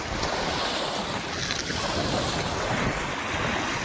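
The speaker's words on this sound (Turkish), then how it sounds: "Denizin sesi." Sea waves washing in Izmir Bay, heard from a bridge as a steady broadband wash with strong wind noise across the microphone, continuous and fairly loud throughout.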